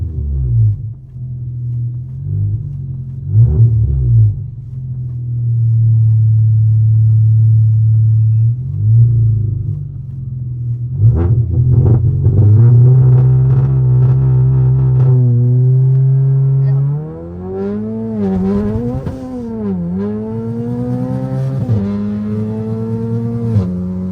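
Volkswagen Golf R engine from inside the cabin, a low rumble that rises through revs and gear changes as the car launches and accelerates hard, with brief voices partly under the engine noise.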